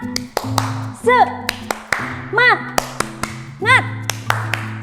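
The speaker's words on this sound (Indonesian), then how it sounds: "kita tepuk semangat dulu yuk" Children at an online church kids' service clap along in a patterned rhythm: sharp claps grouped into repeating bursts, mixed with voices chanting and a playful whooping, over backing music.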